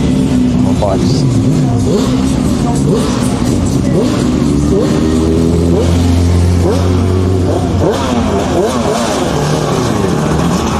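Motorbikes racing at a Friday night tarmac rally sprint, several engines revving and sweeping past close by with rising and falling pitch, loud and continuous, with people talking over them.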